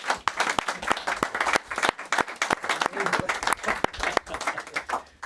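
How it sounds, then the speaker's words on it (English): An audience applauds after a pitch challenge on a television show, with sharp individual claps standing out of a loud, lively round of clapping and some voices underneath. "Give him a round of applause."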